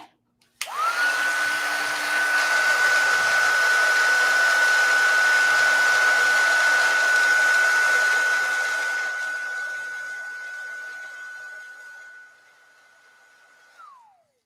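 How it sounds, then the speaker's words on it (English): An embossing heat tool blows steadily while melting embossing powder for card crafting, a loud continuous whirring hiss that switches on sharply, runs for about thirteen seconds, then fades and winds down. "I'm going to turn my heat tool on so it's be a little noisy."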